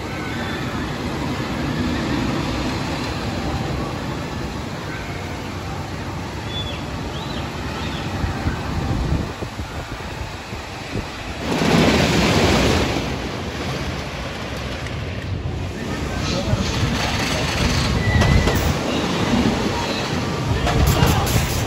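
A ride on the Lightning Racer wooden roller coaster at Hersheypark is a loud, constant roar of wind and rushing track noise, with a few swells of rumbling and clatter as the train speeds along.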